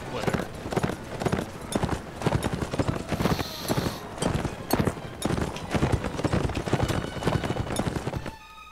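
Galloping horse hooves in Mount & Blade Warband, a loud, rapid, continuous pounding for several seconds mixed with battle noise, someone talking over it, ending abruptly near the close.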